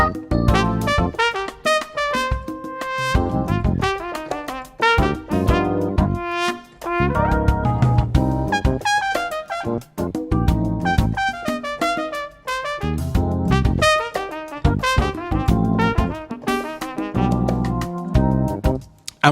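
Brass-like synthesizer tone improvised in a busy, continuous run of short notes and phrases, loud and unbroken for the whole stretch with no voices.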